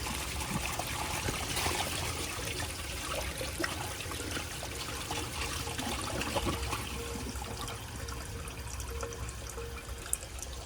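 A 1979 Crane Radcliffe toilet flushes a washcloth and a grocery bag, giving a continuous rushing, gurgling swirl of water that stays steady and close for the whole stretch, with one faint click near the end.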